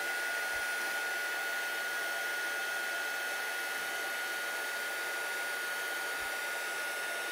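A hair dryer blows steadily and close up, drying spritzed Perfect Pearls on cardstock, a constant broadband whoosh with a faint whine running throughout, with no talk over it.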